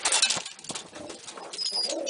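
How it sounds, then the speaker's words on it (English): An ash red pigeon coos close by while being handled, soft rolling burbles mixed with rustling. "This is a pretty nice pigeon."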